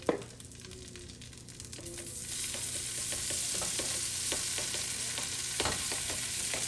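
Tofu pieces drop into a hot pan and settle into a steady, faint sizzle of stir-frying, with a few small clicks and scrapes of handling over a continuous hiss.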